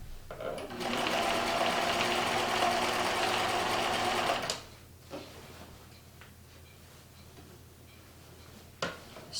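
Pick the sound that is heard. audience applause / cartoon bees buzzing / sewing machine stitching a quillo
sewing machine stitching a quillo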